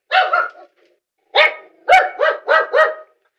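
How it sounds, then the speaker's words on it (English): A dog barks sharply nearby: one quick double bark, then a short pause before a run of four rapid barks, loud and clear with no talking over them. "You heard my dog."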